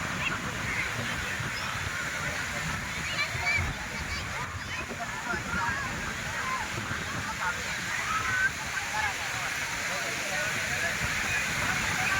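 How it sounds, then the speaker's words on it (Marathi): Waves and water wash continuously at crowded Shiroda beach, a broad rushing surf with faint crowd voices in the background. "हा आहे शिरोडा बीच"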